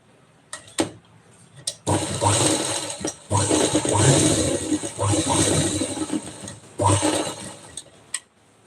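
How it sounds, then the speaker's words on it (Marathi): A sewing machine stitches a blouse in short, loud bursts of rapid mechanical whirring, separated by brief pauses and small clicks. "आता आपण ह्याला शिलाई करून घेऊया"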